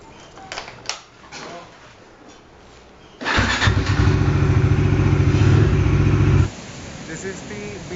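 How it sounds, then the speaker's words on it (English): A Bajaj Dominar motorcycle, bought in 2021, starts up and runs in Trivandrum near Shangumukam Beach: a loud, steady engine drone that rises suddenly, holds for about three seconds, then drops back to a quieter idle, with faint background noise before it. "I'll be going on my bike."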